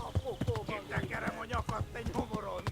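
Rhythmic hoofbeats of a galloping horse in the medieval video game Kingdom Come Deliverance, steady and moderately loud beneath someone talking over them.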